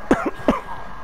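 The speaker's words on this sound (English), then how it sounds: "this cough is getting really bad" A person gives a few sharp, close coughs in quick succession, two rapid barks followed by a third, loud and alone.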